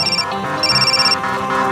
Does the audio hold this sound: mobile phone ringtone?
yes